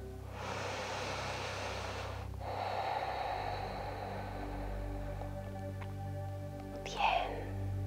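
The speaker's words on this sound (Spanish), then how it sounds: "Inhala y exhala por tu nariz." Steady breathing in and out through the nose during a vinyasa yoga session, a long soft hiss of inhalation followed by a fainter exhale, close to the mic over a low background hum, without talk.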